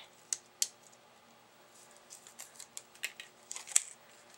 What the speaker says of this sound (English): So I'm just going to go ahead and peel off the base layer of the action wobble.